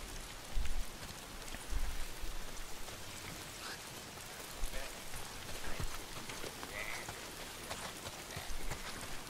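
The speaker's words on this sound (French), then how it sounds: "Putain, il manquait plus que la pluie." Steady rain pours down in the open-world game Days Gone, a dense continuous hiss of drops with a few dull low thumps, under constant patter throughout.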